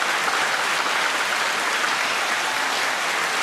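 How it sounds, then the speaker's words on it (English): A chapel audience at a college gathering breaks into sustained, even applause, loud and dense clapping from many hands that holds steady throughout, with no speech over it. "That's worth applause itself."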